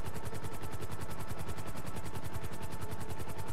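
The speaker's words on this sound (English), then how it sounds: "And yes, we're taking a helicopter." A helicopter in Grand Theft Auto V, its rotor beating in a loud, fast, steady chop with engine whine underneath, close and continuous with no talk.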